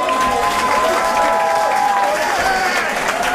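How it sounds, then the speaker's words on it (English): A boxing match crowd in Dalkeith applauds and cheers both fighters after a bout, dense continuous clapping with shouts and whistles mixed in, loud and close. "a huge round of applause for both fighters."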